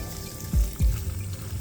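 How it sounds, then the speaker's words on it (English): Water from a container is poured gently onto garden plants, giving two soft splashing gushes that settle into a brief low trickle, close by. "All right, water them gently."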